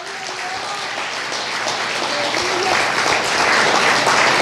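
Sustained applause from a church congregation, a steady dense wash of clapping that holds even and slightly builds throughout, with a few faint voices mixed in.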